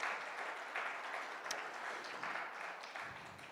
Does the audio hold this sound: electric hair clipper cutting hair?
no